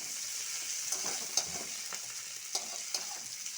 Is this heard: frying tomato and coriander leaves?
yes